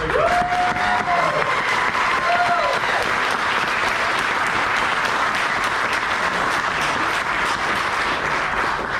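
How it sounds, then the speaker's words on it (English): An audience at a Hall of Fame induction and awards banquet claps steadily, a dense wash of applause that holds for the whole stretch, with a couple of brief whistles near the start. "let's give him another round of applause"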